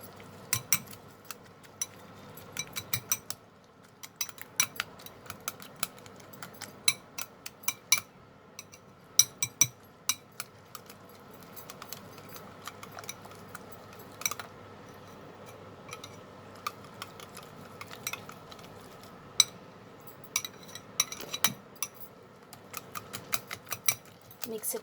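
A spoon clinks and scrapes against a bowl while an egg paratha mixture with salt is stirred, irregular light metallic taps at a quiet, close level throughout, with faint background hum.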